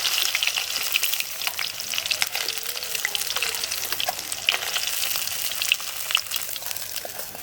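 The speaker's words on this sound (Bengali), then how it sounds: "এবার বাদবাকি মাছগুলো ভেজে নিচ্ছি।" Aair fish frying in hot oil crackles and sizzles steadily, a dense spatter of pops and hiss throughout, close up and with no talking.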